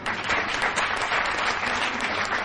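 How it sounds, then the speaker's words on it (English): An awards-evening crowd gives warm, steady applause for the winner's wife. The clapping is dense, even and fairly close, with no talking heard over it. "a special round of applause for his elated wife"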